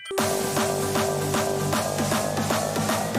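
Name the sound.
hardstyle remix music playing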